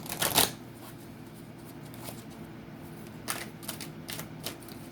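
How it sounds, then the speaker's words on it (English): Tarot cards handled and drawn from a deck, a loud card flick near the start followed by softer, sporadic slides and taps of cards against a low steady room hum, no talking. "I want to take one of these cards here."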